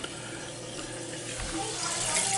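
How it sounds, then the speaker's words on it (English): Water rushes into a toilet tank through a newly replaced fill valve just after the supply is turned on, a steady soft hiss that grows slightly louder toward the end. "I'm going to turn the water on"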